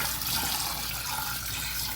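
Cold tap water runs in a steady, fairly quiet hiss as it pours over freshly boiled eggs in a sink, continuous from start to finish with no voices.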